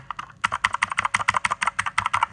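Quick, even clicking of typing on a mechanical keyboard, close and crisp, a fast string of keystrokes after a brief pause at the start.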